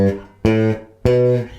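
Funky bass guitar line, three plucked notes in a syncopated rhythm, each ringing with rich overtones and a clean attack, played alone and close.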